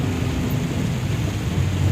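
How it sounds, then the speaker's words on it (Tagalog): Heavy rain pours steadily on a muddy rural road in the Philippines, a dense, even roar with no distinct thunderclap standing out. "Lakas pa ng ulan."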